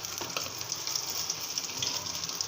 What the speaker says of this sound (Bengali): এখন আমি ডিমটা এক সাইডে থেকে ভেজে নেব